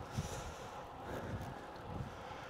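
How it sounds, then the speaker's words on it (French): Strong wind with 60 km/h gusts buffeting an outdoor camera microphone, a continuous loud roaring rumble that swells in waves throughout, with no other sounds. "Il y a énormément de vent, donc j'espère qu'avec le micro, la caméra, ça va."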